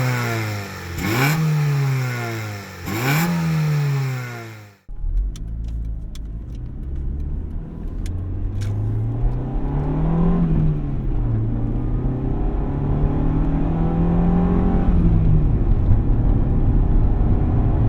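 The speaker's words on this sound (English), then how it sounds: "Let's go ahead and rev it a couple times for you." Engine of a 1995 Honda Civic Si hatchback revved twice from idle, each rev rising sharply and falling back, then a loud steady engine drone as the car pulls away and accelerates up close.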